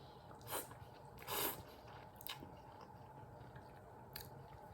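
Someone takes crunchy, squishy bites while eating KD ramen and a Lay's bacon grilled cheese, with a few close, distinct bites and chews spread over a few seconds.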